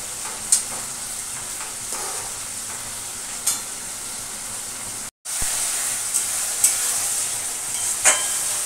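Curry with jackfruit seeds simmers in a pan over a gas flame, with a steady sizzle and hiss and occasional soft scrapes of a stirring spoon, broken by a brief silent gap.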